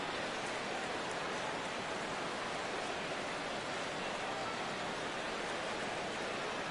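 Heavy rain pouring down on a baseball game between the Cubs and the Reds, a dense steady hiss of rainfall with no breaks, loud and even throughout with no talking.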